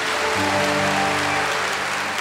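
Church congregation applauding loudly and continuously, a thick even wash of clapping from many hands, with a faint sustained organ or keyboard tone underneath.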